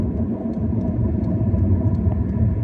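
A deep, continuous engine rumble with metal-to-metal grinding undertones from a Honda Civic hatchback's front wheel area, loud and close, steady throughout with no voices.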